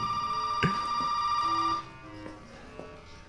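Telephone ringing in the video game Resident Evil 7, a sustained electronic bell tone that rings for under two seconds and then cuts off, leaving faint ambience and small knocks.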